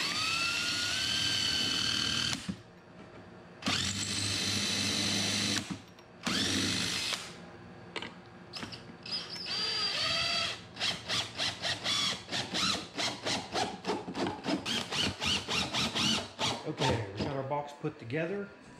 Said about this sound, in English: always drill a pilot hole first with a smaller drill bit